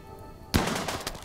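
Gunfire from the video game Rimworld: after a quiet stretch, a sharp burst of shots erupts and continues as a rapid, irregular volley of cracks, loud and close.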